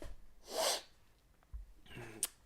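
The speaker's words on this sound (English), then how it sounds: "Sorry, probably going to sneeze here in a minute." A single close sneeze bursts out near the start, followed by quiet breathing and a small sniff at the end, with no talking.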